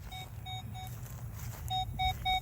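A metal detector sounds a series of short, steady tones over a buried brass target outdoors, evenly spaced beeps with a low hum underneath.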